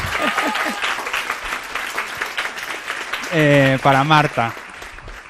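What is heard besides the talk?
audience applause for speaker Marta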